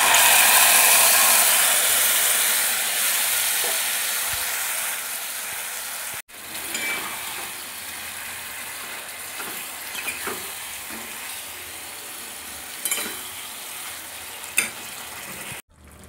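Mutton hits a hot pan and sizzles loudly, the frying hiss easing as it is stirred, with occasional scrapes and clanks of a utensil against the pan.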